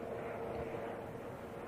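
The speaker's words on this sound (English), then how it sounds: "There's a helicopter you can definitely hear on the effects microphone there." Helicopter passing over a cricket ground at Old Trafford during a one-day match, heard as a steady, fairly faint broadband rotor and engine drone with a sustained low hum and no talk.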